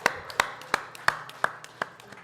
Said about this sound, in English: It's a great clap.